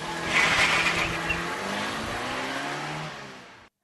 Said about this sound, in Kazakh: Машинамен де саяхаттауға болады.